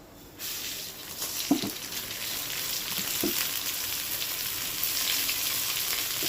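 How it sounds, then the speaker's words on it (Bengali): Washed rice frying in hot oil with cashews in a pot for festive bhog khichuri, a loud continuous sizzle with a couple of soft stirring knocks early on. "চাল দিয়ে দিলাম আর এর মধ্যে দিয়ে দেবো ডালটাকে সব একসাথে ভেজে নেব"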